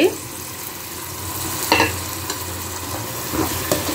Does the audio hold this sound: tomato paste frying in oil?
yes